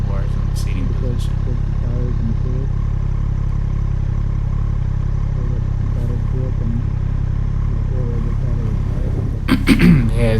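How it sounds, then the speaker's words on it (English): A 2020 Triumph Street Triple RS motorcycle being ridden during break-in, its engine a steady loud droning hum with faint clatter, and a burst of noise near the end. "just taking the street triple out for a quick ride to break it in"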